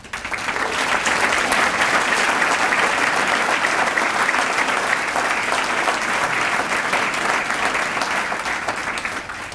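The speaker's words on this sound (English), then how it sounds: "I want to give a very special round of applause and welcome and thank you to Lincoln High School's Jazz 1 group." A crowd gives a sustained, even round of applause for Lincoln High School's Jazz 1 group on an evening Teacher of the Year event, full and steady from start to finish.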